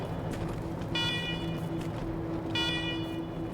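A looping alarm blares in the video game Wasteland 3, a steady electronic tone with repeated bright bursts of a higher pulsing signal, loud and continuous with no one talking.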